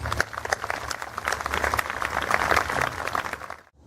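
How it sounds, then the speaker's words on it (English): An audience at a citizenship ceremony at Fisk gives a brief round of applause: dense, even clapping that swells slightly and then stops abruptly. "a round of applause."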